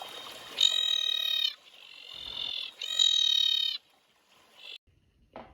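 Screaming tree frog calls ring out in two long, loud, harmonic shrieks separated by pauses, with shorter fainter calls after, close to the microphone against a quiet background.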